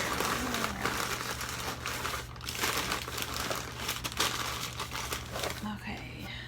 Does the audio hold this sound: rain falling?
no